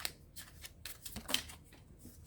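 Tarot cards shuffled by hand in a quick run of soft, papery riffles and flicks, close and quiet, lasting a couple of seconds.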